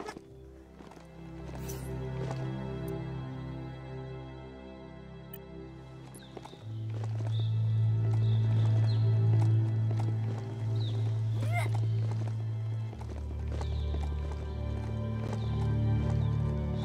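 Hooves of a ridden mount in the game Biomutant clip-clop in a steady rhythm, with occasional whinnies, over a low droning game soundtrack that swells midway.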